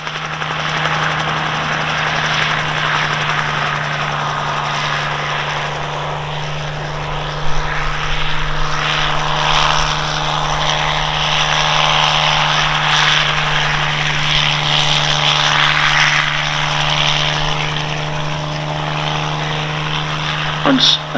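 A Bell 47 helicopter flies a display at the East Kirkby airshow, its engine and rotor giving a steady, loud drone with a strong low hum that holds throughout, rising slightly near the end.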